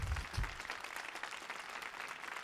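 An audience at a choir concert on an indoor stage applauds, a fairly faint, dense patter of clapping that swells briefly at the start and then holds steady before easing.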